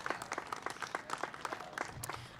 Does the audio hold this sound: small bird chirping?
no